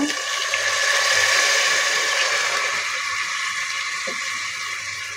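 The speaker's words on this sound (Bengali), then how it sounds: "এখন আমি একটু পানি দিয়ে দেব" Water poured into a pot of chicken curry, a steady rushing pour that fills the whole clip and tapers slightly toward the end, close and fairly loud.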